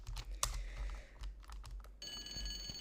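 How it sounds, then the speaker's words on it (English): A shrill electronic alarm from Tomb Raider Remastered kicks in partway through, a steady multi-tone ringing that follows a stretch of soft clicking and tapping noises. "we cannot get rid of the alarm sound"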